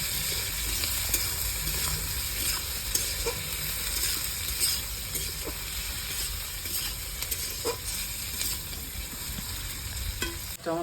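Four small chopped onions sizzle steadily in hot oil with whole cumin in a pan for a rohu and taro curry, a soft continuous frying hiss with faint stirring.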